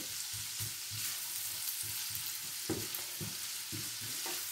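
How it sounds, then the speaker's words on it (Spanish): Garlic and diced ham fry together in a fast-heating pan, a bright constant sizzle punctuated by rhythmic stirring scrapes every half second or so; close up and with no voices. "ya tenemos nuestro ajito que está cogiendo calor y vamos a poner nuestro jamoncito, ¿vale? Para que se nos dore también un poquito"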